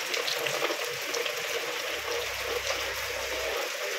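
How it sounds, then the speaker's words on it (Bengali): Rainwater runs and trickles steadily as it is collected at a village house in Bangladesh during a rain shower, a continuous close splashing wash with a low hum joining partway through. "এভাবেই ধরে রাখা হয় বৃষ্টির পানি।"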